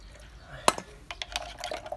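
Water splashes into a container holding cockroach powder, with a sharp pour onset followed by scattered drips and trickles at close range, faint background murmur.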